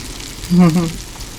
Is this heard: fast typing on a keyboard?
no